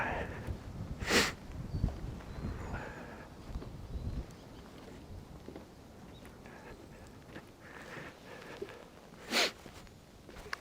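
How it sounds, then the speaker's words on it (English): Two sharp, close sniffs through a face mask, one near the start and one near the end, over faint outdoor rustle and wind in a snowy park in Fukuoka. "Sorry for sniffing."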